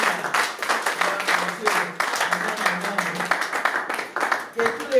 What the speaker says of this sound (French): On va acclamer pour les mères qui sont là.